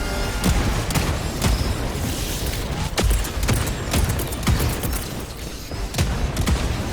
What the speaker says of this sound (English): Deploying sentry. Sending down sentry.